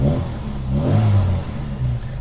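An Austin Mini's engine revs up and settles, a loud mid-toned rumble that rises and falls in a single swell near the car, with no one talking.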